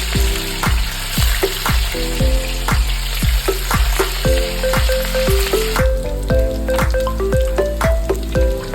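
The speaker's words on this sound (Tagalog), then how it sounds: "Iprito ang baboy hanggang maging crispy." Loud, continuous sizzling of pork frying in hot oil until crispy, close up, with a regular pulsing rhythm of pops and tones running throughout.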